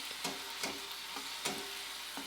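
Onion and tomato frying in a pan, a soft continuous sizzle broken by a few regular stirring scrapes, quiet and close, with no one speaking.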